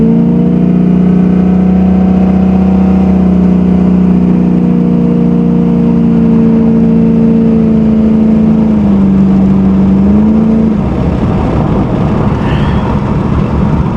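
Close and loud, a 1987 Chevy Monte Carlo SS with a 500 hp engine climbs under throttle in one long, rising drone that dips near the end as it shifts, followed by rougher, broader engine noise.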